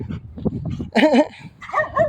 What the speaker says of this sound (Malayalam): നല്ല ഇനം നായണത്.